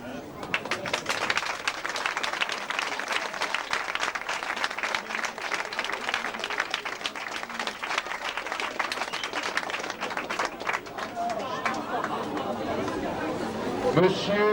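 A crowd applauds at the opening of a McDonald's restaurant, dense sustained clapping mixed with chatter and voices that carries on for the whole stretch.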